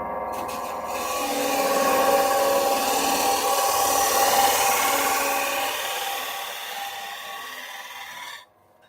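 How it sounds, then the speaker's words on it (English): A wood lathe scraper shaves minuscule curls from spinning wood, giving a steady close rasping, rubbing hiss that holds for several seconds, swells gently, then stops abruptly, with no talk over it. "So the idea of this scraping is that it's taking a minuscule shaving."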